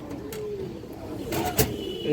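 Pigeons coo softly at close range, a couple of low gurgling calls over faint background noise, with a brief thump near the end.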